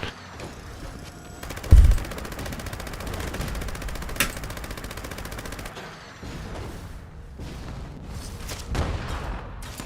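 Heavy automatic gunfire aimed at a vertibird in an online game, sustained rattling bursts with a few louder booms, loud and continuous over the whole stretch, with no talking.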